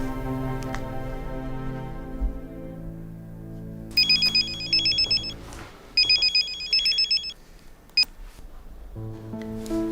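A mobile phone's ringback and ringtone as an outgoing call connects, with repeated bright electronic ring bursts that start and stop in a steady pattern, loud and close, over a soft musical background and no speech.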